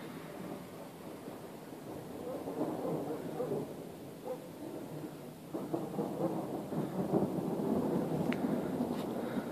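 A heavy thunderstorm and downpour over Solin, with hail possible, heard from inside a vehicle during a storm chase: a steady roar of rain with low rumbling swells and a few sharp clicks on top, moderately loud and continuous.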